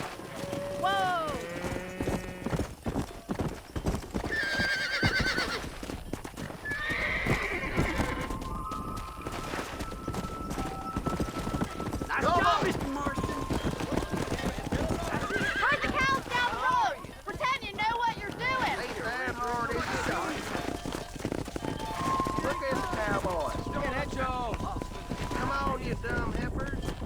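A horse in Red Dead Redemption trots with steady clip-clop hoofbeats and whinnies, while voices talk over it throughout.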